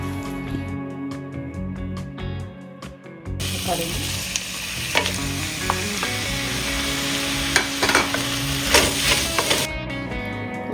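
Onions frying in a pan for Kerala fish head curry, starting with a few clinks and then bursting into a loud, steady sizzle, with stirring scrapes and clatters close by.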